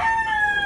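A Tagalog gamecock rooster crows in one brief, loud, close call, with no voices.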